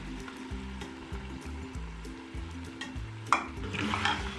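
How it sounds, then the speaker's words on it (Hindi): Chicken karahi masala being stirred and fried on high heat in a karahi, a steady close sizzle with repeated rhythmic scraping strokes of the spoon and a brief sharper clatter near the end. "इसको हम अच्छे से मिक्स कर लेते हैं, और इसको भी हमने भूनना है।"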